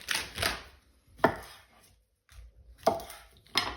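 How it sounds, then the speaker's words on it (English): A knife chops through a cucumber on a board, four or five sharp separate thunks spaced irregularly, close and clear with silence between strokes. "start by slicing the ends off the cucumber"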